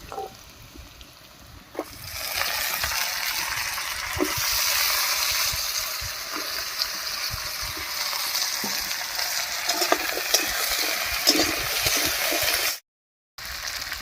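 Onions fry with chopped kochur loti (taro stolons) in a pan, a close, steady sizzle with stirring and scraping that starts after a quiet moment and runs until a brief dropout near the end.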